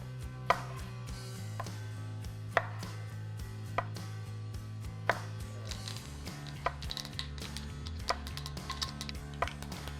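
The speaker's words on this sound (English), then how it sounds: "Quarter or roughly chop these tomatoes" A knife chops tomatoes steadily on a cutting board, with sharp irregular knocks over a low background hum, speeding up toward the end.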